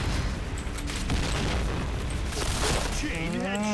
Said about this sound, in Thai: มันปาระเบิดมา